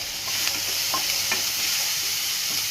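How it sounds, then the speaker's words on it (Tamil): Onions with salt sautéing in a pan for a watermelon-peel curry, a steady close sizzle broken by soft scraping stirs of a spoon, with no talk. "2 மினிட்ஸ் வதக்க விடுங்க."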